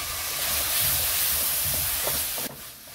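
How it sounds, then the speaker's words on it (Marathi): Tomato paste hits hot masala for dhaba-style chole and sizzles loudly in a bright, steady hiss with small bubbling pops, then the sizzle drops off sharply near the end. "आता आपण यामध्ये टोमॅटो पेस्ट घालून घेऊया।"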